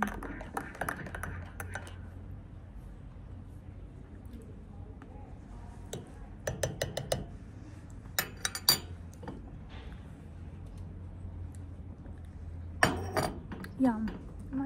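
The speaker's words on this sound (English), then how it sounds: "Actually, I might stir and taste it." A spoon clinks against a coffee cup with cream while sugar is stirred in, giving faint scattered clusters of bright metallic taps over a quiet room with low background hum.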